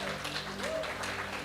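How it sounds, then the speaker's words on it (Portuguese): A church congregation gives a round of applause for a man standing up, a dense steady clapping spread evenly across the short moment with no break. "Vamos dar uma salva de palmas para o Francisco"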